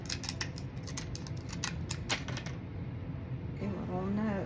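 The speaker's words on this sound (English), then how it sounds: "I took a popsicle stick here and cut me out" Scissors snip through a popsicle stick in a quick run of sharp, close clicks and crunches, followed by a brief quiet and a soft voice.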